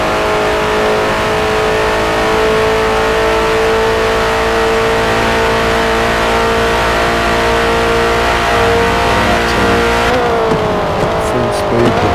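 Ford GT40 Mk II race car in a Le Mans racing video game, its engine screaming at full speed in a loud sustained high rev that drops sharply near the end, with a voice commentating over it.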